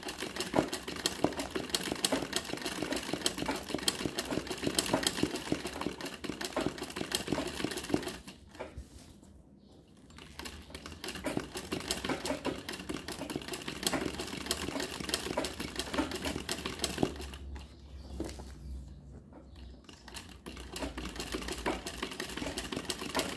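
A sewing machine doing machine embroidery, a Turkish stitch in white over blue outlining, hums steadily and continuously, pausing briefly twice before resuming.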